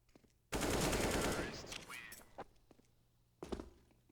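AK rifle fire in a video game starts as a loud close burst of rapid automatic shots, then fades into scattered thumps, followed by a single later impact.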